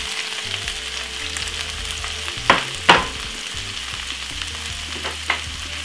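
Cabbage frying in a pan with corned beef for a Jamaican bully beef dish, a steady sizzle broken by a few sharp utensil knocks and stirring scrapes, close and moderately loud, no talk.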